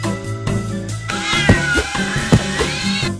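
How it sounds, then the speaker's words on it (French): Alley cats meow in a street scene: several drawn-out, wavering cries rise and fall over a steady musical backing, with a couple of sharper, louder yowls standing out near the middle. "Les chats de gouttière ont repris le contrôle des rues."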